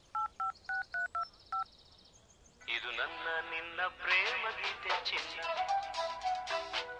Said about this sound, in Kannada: ನಮ್ ಹುಡುಗಿ ಫೋನ್ ರಿಂಗ್ ಆಗ್ತಾ ಇದೆ